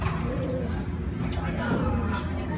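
Racing pigeons cooing softly as they arrive at a loft, low repeated coos blending under steady outdoor background noise and someone talking throughout.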